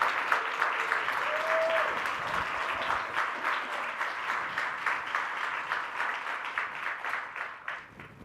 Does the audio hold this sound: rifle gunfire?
no